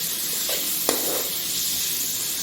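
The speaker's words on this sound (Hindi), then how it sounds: "अब इसको अच्छी तरह इसमें तेल में फ्राई करेंगे टमाटर को" Tomatoes frying in hot oil give a steady, close sizzle, broken by one sharp clink of a utensil against the pan.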